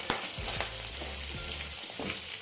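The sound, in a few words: goat tripe frying and popping in oil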